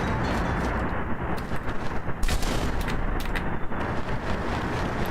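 Gunshots in the video game The Devil Haunts Me, loud irregular cracks bursting over a thick, roaring background of game noise, with no speech.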